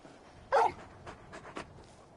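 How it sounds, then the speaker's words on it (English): A large dog in the Final Fantasy XVI video game lets out one sharp, fairly loud bark, followed by a few softer, brief yips and whimpering sounds, close by and without talk. "You're just a big puppy, aren't you? A very big puppy."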